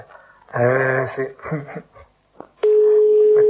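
A steady telephone dial tone begins abruptly after brief talk and sounds loud and continuous through the end, heard on a phone line during an Italian radio call.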